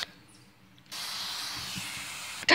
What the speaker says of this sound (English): Spray works great.